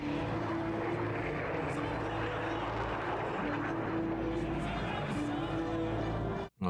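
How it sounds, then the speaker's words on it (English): A drone flies in a movie action scene with a steady buzzing, whirring drone over a loud, dense, rumbling soundtrack that cuts off sharply at the end. "That was a drone."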